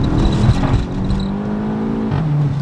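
A tuned Volkswagen Golf 7 GTI pulls hard from inside the cabin, its engine whirring loud and steady, then dipping in pitch at a gear change before climbing again.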